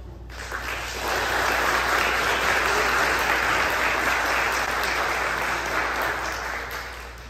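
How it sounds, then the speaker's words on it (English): An audience at a summer music school recital applauds to welcome the first performer, a dense, steady wash of clapping that swells after a second, holds evenly and tapers slightly at the end. "a round of applause, welcome your first act"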